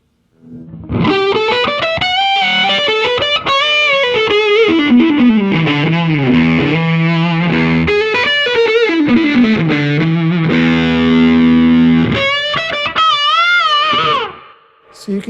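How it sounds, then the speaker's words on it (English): An electric guitar played through a Way Huge Swollen Pickle Jumbo Fuzz pedal produces thick, saturated, sustained fuzzy notes and bends, loud and close, with no talking. "you can hear how it really smooths out the edges of the fuzz"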